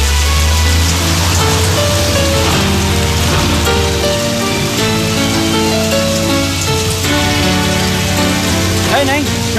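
Heavy rain pours at night onto a street in a constant dense hiss, loud and close, mixed with steady background music.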